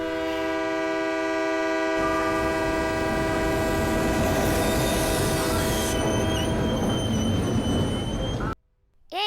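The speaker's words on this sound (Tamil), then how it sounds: "சரி ட்ரெயின் கிளம்புது." A train rumbles loudly nearby as it starts moving, with a long sustained horn blaring over the rolling noise before it suddenly cuts off.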